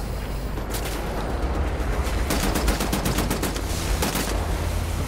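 Rapid bursts of automatic gunfire crackle in the shooter game Wolfenstein: The New Order, sharp repeated shots clustering in volleys over a rumbling battle background.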